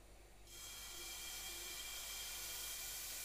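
Pancake batter poured into a hot sprayed pan sizzles as a steady, fairly quiet hiss that starts after a short pause and holds evenly to the end.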